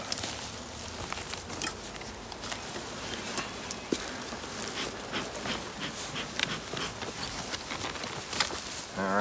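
A swarm of honey bees being caught buzzes faintly in a continuous drone, with scattered rustles and footsteps close by.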